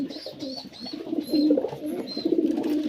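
Pigeons in a loft give low, throaty, repeated cooing, close and fairly soft, with overlapping calls and faint higher chirps.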